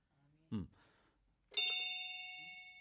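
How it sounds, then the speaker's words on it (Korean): A single clear bell strikes once during a Sunday church service, ringing out bright and loud with a long sustained tone that slowly decays. A brief voice sound comes just before the strike. "종소리 좋죠?"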